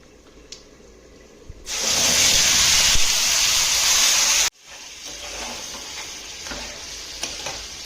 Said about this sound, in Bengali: মশলাটা এবার ভালো করে ফ্রাই করে নেবো।